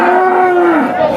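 A dairy cow at a busy cattle market of HF-breed cows in Chintamani gives one long, loud, close moo lasting about a second, with faint market bustle underneath.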